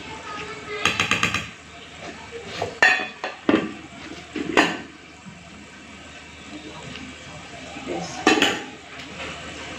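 Rice being served onto a plate at a home dinner, with scattered sharp clinks of dishes and utensils, some in quick rattling bursts, over quiet room sound while a person talks.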